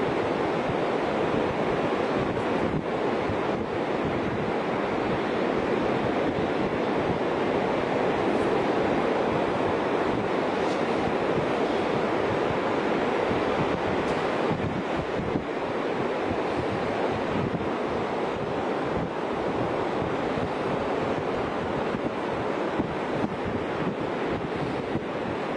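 Strong wind gusts and surf roar continuously while kitesurfing at a kite-jumping session, with steady buffeting wind noise against the microphone and crashing waves throughout, loud and unbroken, no speech.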